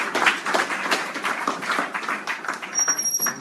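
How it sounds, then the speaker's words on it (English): Church congregation giving a round of applause during a sermon, steady, moderately loud clapping from many hands, dense and continuous, without speech over it. "Give the Lord a round of applause"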